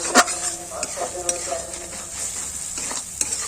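Masala for prawn malai curry being stir-fried in a pan, a steady sizzle with repeated scraping spatula strokes and a few sharp metallic taps.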